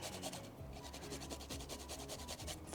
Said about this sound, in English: We're going to cut the end off and grate it in.